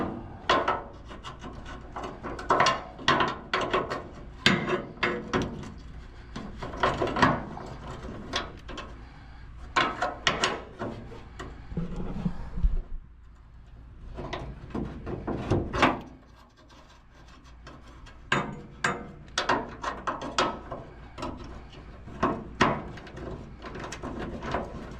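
Wrenching at bolts on the end bracket of a 1957 Chevrolet bumper, a close series of dry scraping, rasping and knocking bursts in uneven clusters, with a short pause midway before the metal-on-metal working resumes.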